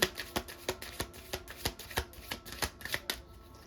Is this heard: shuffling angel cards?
yes